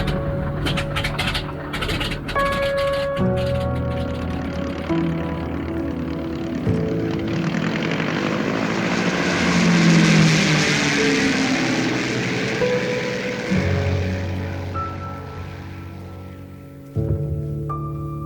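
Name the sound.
float plane propeller engine in flight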